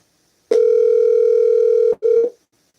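A telephone dial tone, one loud steady electronic hum that holds for about a second and a half, cuts out, returns briefly and stops, with no talking.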